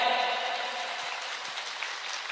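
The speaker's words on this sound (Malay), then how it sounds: "Tepuk tangan untuk IHM." Applause from a gathered congregation at a religious sermon gathering, a steady dense crackle of many hands clapping that slowly thins out, with no voices over it.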